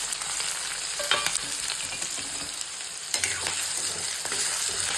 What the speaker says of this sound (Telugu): ఇవి బాగా ఫ్రై అయ్యే వరకు వేసుకోవాలి.